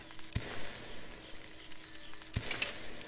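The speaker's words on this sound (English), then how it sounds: "Let's cook more food here." Food frying and sizzling in the survival game ABOVE, a steady hiss with two sharp clicks from the game interface, close and fairly loud with no talk.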